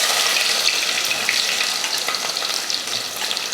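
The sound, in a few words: fenugreek, curry leaves and shallots sizzling in hot oil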